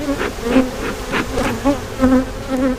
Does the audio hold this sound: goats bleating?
no